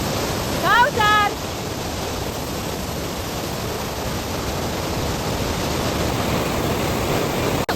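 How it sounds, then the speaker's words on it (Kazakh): Fast river water rushing steadily near Zharkent, a dense, continuous roar that holds loud for the whole stretch, with a brief voice near the start. "судың дауысы деген енді жаман"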